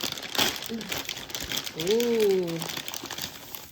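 A Ziploc bag crinkling as it is opened, with short papery rustles near the mic and a brief exclaimed voice in the middle.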